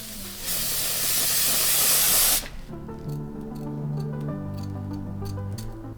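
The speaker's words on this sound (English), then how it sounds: "I'm gonna use some hairspray because I really want this hairline clean." Hairspray hisses from a can onto a 613 blonde wig's lace hairline in one loud, close burst of about two seconds, followed by quiet background tones and faint ticks.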